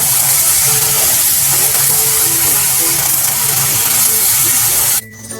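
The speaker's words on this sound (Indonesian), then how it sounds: "sekarang terus dimasak sampai air benar-benar habis dan bumbu mengkaramel" Spice paste for a potato dish sizzling and bubbling in a pan as the water cooks off and it caramelizes, a steady close hiss and crackle throughout that cuts off abruptly near the end.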